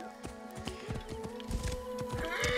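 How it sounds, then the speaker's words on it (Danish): A stolen horse in Assassin's Creed Origins gives a loud whinny while its hooves clip-clop in a steady walking rhythm close by, with no talk over it. "Du stjæler lige en hest."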